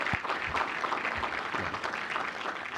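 An academic session audience gives brief, steady applause for a scholar's science award, moderately loud and continuous for a few seconds with no talk over it.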